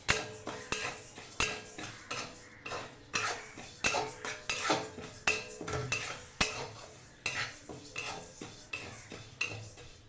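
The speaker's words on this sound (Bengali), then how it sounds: "মুগ ডাল দিয়ে দিচ্ছি কড়াইতে, কড়াই গরম হয়ে গেছে, ভেজে নেব।" Mung dal being dry-roasted in a hot wok, with a spatula scraping and clattering against the metal in steady, repeated strokes, close and fairly loud, with only a faint sizzle beneath.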